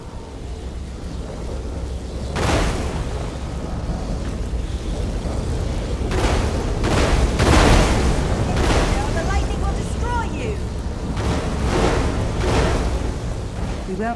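A thunderstorm with lightning in The Elder Scrolls Online, with loud, rumbling thunder cracks bursting repeatedly over a constant roar of wind and rain.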